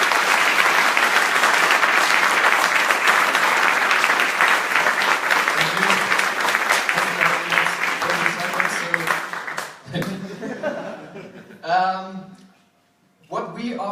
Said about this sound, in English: Big applause to them.